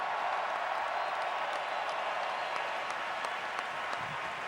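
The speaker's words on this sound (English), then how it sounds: "How about a tremendous round of applause for these folks out here, man?" Sustained applause from a large baseball crowd at a Dodgers versus Cubs playoff game, a dense steady roar of clapping filling the whole stretch with no break.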